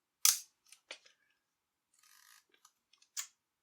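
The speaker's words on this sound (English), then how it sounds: "you can tell when the shutter's about to be triggered" An Olympus Pen EED half-frame camera gives a few crisp, quiet mechanical clicks as its shutter is triggered, with small handling ticks between them, close up in otherwise silent surroundings.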